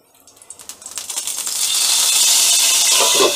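Hot oil in a heated pan spluttering after a little water drops in, a quick rising run of sharp pops that merges into a loud continuous hissing crackle up close.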